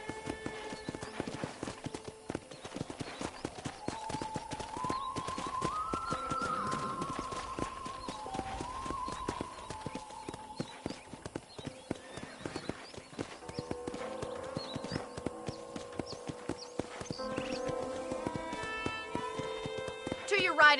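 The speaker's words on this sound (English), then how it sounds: "let's see if you can still ride a horse" Horse hoofbeats in the video game Red Dead Redemption remaster, a steady faint clip-clop running throughout beneath a character's talk and soft background music.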